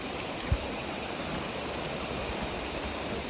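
Water runs steadily down a hand-dug hydraulic mining channel into a sluice box at the bottom, a constant broadband rush with a single brief knock near the start, heard alone.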